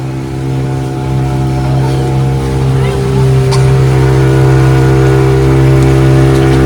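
A motor boat on the lake at the Ooty boathouse drones with a steady, loud, close engine hum, its tone rising slightly as it gathers pace over a wash of water noise.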